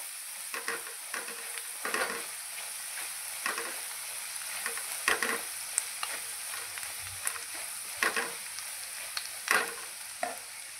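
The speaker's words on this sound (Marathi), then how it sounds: "हळद छान परतली की त्यामध्ये आपण लगेच खोबरं आणि लसूण यांचं वाटण टाकून छान प्रकारे परतून घेणार आहोत" Turmeric and a coconut-garlic paste sauté in hot oil for a rustic dal and brinjal curry. A soft, steady sizzle runs underneath while a spoon stirs and scrapes at irregular intervals, and no one speaks.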